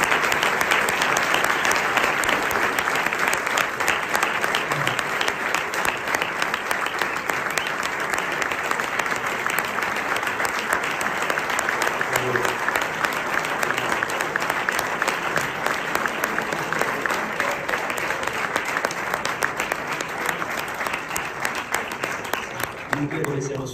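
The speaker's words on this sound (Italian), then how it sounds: "Vi chiedo un grande applauso per Daniele De Rossi." Sustained audience applause fills an Italian live television broadcast welcoming a football figure, a dense, steady wash of clapping lasting over twenty seconds with faint voices mixed underneath.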